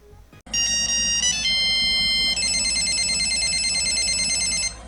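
An old Boost Mobile flip-era cell phone plays a loud, bright electronic ringtone of steady beeping tones that shift pitch partway through, clear and close, starting after a short click and ending abruptly.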